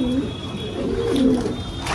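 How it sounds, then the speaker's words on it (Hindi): A pigeon coos softly a few times amid faint outdoor background noise, the low rounded calls fairly close but not loud, with no talking. "ज़बरदस्त कबूतर है और पानी भरा हुआ है भाई, कबूतर अंदर जा रहा है।"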